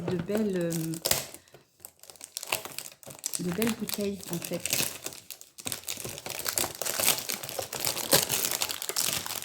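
Loud crinkling and crumpling of plastic packaging, mixed with bursts of tearing, while someone talks intermittently over the noise.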